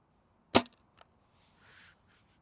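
An XYL KM9 Unicorn foam dart blaster fires once with a sharp, loud crack, followed by a faint click and a soft, brief whoosh of the dart trailing off.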